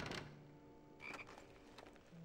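Frog croaks from the PS2 game Harry Potter and the Prisoner of Azkaban, a few short croaking calls set against quiet game ambience and music, fairly close and clear with no talking.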